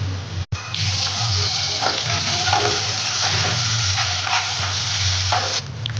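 Ginger garlic paste frying with browned onions in a pan, a dense continuous sizzle with stirring scrapes, loud and close after a brief gap at the start, no voices.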